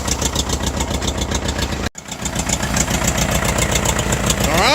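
A small engine runs steadily with a fast, even idle pulse after its carburetor was worked on; it cuts out for a moment near two seconds, then picks back up and keeps running, loud and close.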